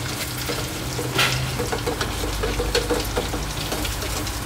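Minced-pork Thai omelette frying in a pan over low heat, with a steady close sizzle and crackle and occasional stirring scrapes throughout.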